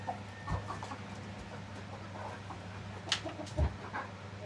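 A backyard flock of hens and a rooster scuffling, with soft clucks, a couple of sharp squawks and wing-flaps, moderately close against a low steady hum.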